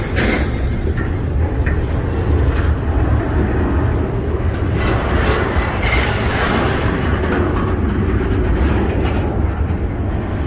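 A train rumbles steadily along the rails nearby, a loud continuous roar with faint rattling and clatter throughout.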